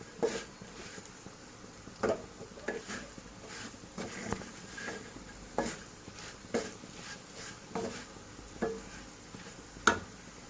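A spoon stirs spices into frying okra and potatoes for a Sindhi bhindi aloo masala, making soft scraping strokes about once a second over a faint, steady background sizzle, with no talking.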